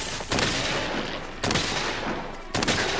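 Bowgun shots firing spread ammo in Monster Hunter World come in three loud, blasting bursts, each followed by a rolling, crackling tail before the next shot.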